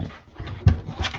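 A dog named Renly pants briefly indoors, a soft, close, rhythmic breathing with a small whimper-like catch partway through.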